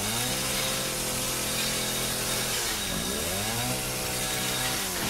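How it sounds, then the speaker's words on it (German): A chainsaw revs in the video game Resident Evil 7, a loud, sustained droning buzz that dips and rises in pitch twice as it runs alone without talk. "Aber wir haben mit der Kettensäge jetzt ein schönes Spielzeug."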